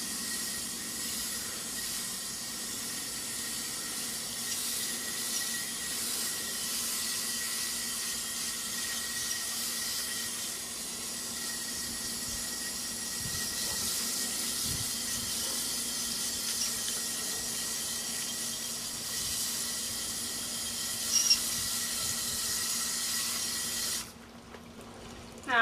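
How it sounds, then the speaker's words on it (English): Steady running water rinsing dirt off a plaster footwear impression cast, a continuous even hiss and splash lasting the whole time before cutting off near the end, with no voices. "Now we're rinsing off our cast."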